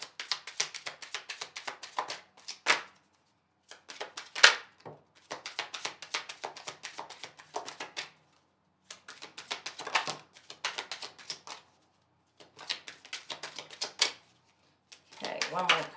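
A tarot deck is shuffled and cut by hand in quick bursts of papery riffles and slaps, with short pauses between rounds, close and fairly crisp. A voice talks faintly now and then.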